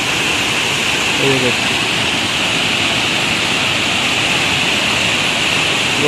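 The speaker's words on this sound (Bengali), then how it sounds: "আপনারা দেখতে পাচ্ছেন যে পানির সাউন্ডটা কী এবং কত সুন্দর করে পানিগুলো যাচ্ছে" Overflowing water rushes out in a loud, constant roar like a small waterfall, close and unbroken throughout, with a brief faint tonal sound near the start.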